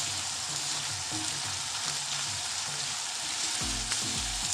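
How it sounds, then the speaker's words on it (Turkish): Ground meat and chopped onion sautéing in a hot pan for börek filling, a loud continuous sizzle and crackle with a few scraping stir sounds near the end, close up. "Soğanı da kıymanın üzerine ilave edip kavurmaya başlayalım artık."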